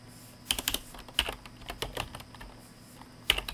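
Code being typed into MATLAB on a computer keyboard, close clusters of rapid key clicks in short bursts with brief pauses between them, over a low steady hum and no talk.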